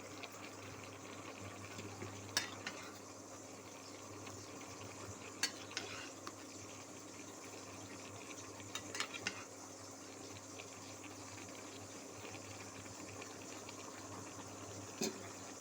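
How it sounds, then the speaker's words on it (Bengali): Onion, garlic and green chilli frying in hot oil, a quiet steady sizzle with a few sharp clinks of a utensil against the pan at intervals, no voices. "এখন আমি দিয়ে দিচ্ছি পেঁয়াজ, রসুন আর কাঁচামরিচ। সুন্দর করে নেড়ে চেড়ে ভেজে নেব"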